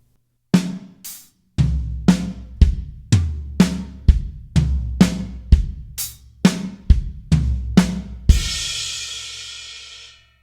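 A slow linear drum fill moves across toms, snare and kick one stroke at a time in an even, deliberate pattern, about fifteen distinct hits, closing on a long, washing crash cymbal.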